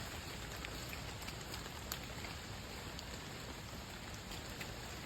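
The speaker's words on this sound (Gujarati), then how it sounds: "યાર વરસાદ બહુ જોરમાં ચાલુ થઈ ગયો છે." Heavy rain pouring down steadily outdoors in a dense, even hiss with occasional sharper drop hits, no voices.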